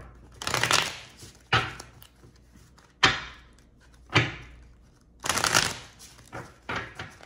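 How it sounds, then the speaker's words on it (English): Tarot cards are shuffled in several quick riffling bursts, each a sharp flutter followed by pauses, close and fairly loud. "You know, I'm gonna shuffle that."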